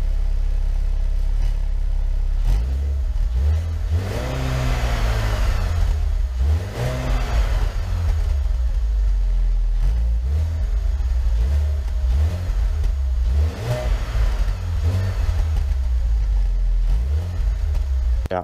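A BMW E46 car engine running close by, loud and bassy, with repeated revs rising and falling over a steady idle throughout.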